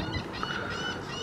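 A flock of birds, apparently geese, honking together in a brief burst of overlapping calls outdoors, fairly close and busy with no pauses.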